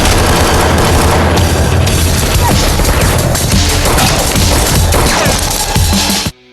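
Gunfire in a John Wick 2 fight scene, dense rapid shots and heavy impacts mixed with crashes and a film soundtrack, loud and continuous before cutting off abruptly.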